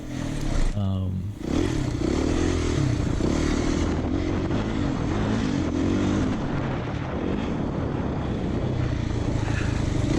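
Beta 390 RR-S dirt bike ridden hard through a race lap at a Washougal grand prix, its engine roaring loud and close the whole time, pitch rising and falling through gear changes and throttle bursts.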